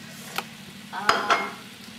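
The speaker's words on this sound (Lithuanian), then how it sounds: "Kol mėsa kepa" Pork frying in a pan, a soft steady sizzle with a few close clinks and stirring taps from a utensil, fairly quiet and without talking.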